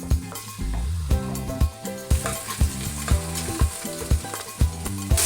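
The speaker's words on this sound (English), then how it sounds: "While my chicken is sizzling and browning away" Chicken pieces sizzle and brown in a little fatty oil in a stock pot, a steady close frying hiss broken by regular clanks and scrapes of stirring.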